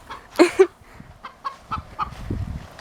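A golden-laced Polish chicken gives a couple of loud squawks, then a few soft, short clucks, close by in a quiet space.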